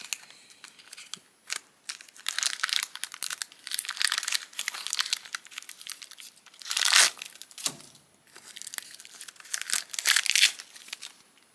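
Plastic packaging around an S.H. Figuarts Super Saiyan Broly Full Power figure being handled and crinkled: loud, close, continuous crackling and rustling in uneven bursts with brief pauses, no speech.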